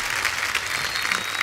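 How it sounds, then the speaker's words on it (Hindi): A TV studio audience on The Kapil Sharma Show gives a dense, continuous round of applause for guests Rajkummar and Nushrratt, steady and fairly loud throughout the brief moment. "एक बार राजकुमार और नुसरत के लिए जोरदार तालियां"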